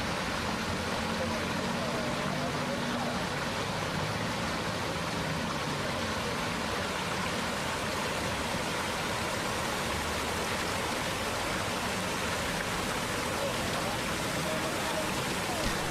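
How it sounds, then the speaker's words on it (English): River floodwater surges through a store and out into the street and sewer system beside a riverside road in Bangkok, a steady loud rushing wash of water that continues without a break. "Here the river is flowing through the store and into the street and the sewer system."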